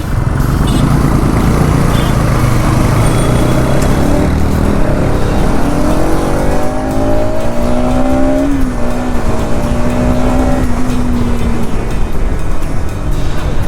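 Loud, continuous wind rush and road roar from a vehicle ridden fast on a road during a morning commute, with an engine whine rising and falling in pitch midway.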